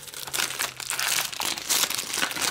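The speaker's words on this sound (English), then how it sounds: "let's go ahead and get this packaging here open" Plastic packaging around a RooCase Gelledge TPU case for an iPhone 6 crinkles and crackles as it is opened by hand, in close, busy bursts of rustling with a faint hum underneath.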